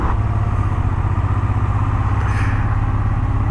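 Motorcycle engine drones steadily from the rider's seat amid heavy road traffic near Sofia, Bulgaria, on a football derby day, with constant wind rush and clatter throughout.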